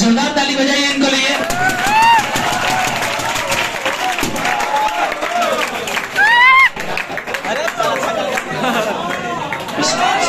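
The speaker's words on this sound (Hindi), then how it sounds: "जोरदार ताली बजाइए इनको लिए।" Audience at an award ceremony for top students breaks into sustained clapping and cheering, a dense wash of applause with crowd chatter, while someone speaks over a microphone throughout.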